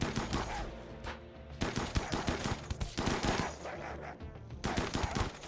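Colonial assault rifles fire on unarmored tribal raiders in the RimWorld video game: dense, overlapping bursts of rapid gunfire crackle loudly throughout, with only brief gaps between volleys.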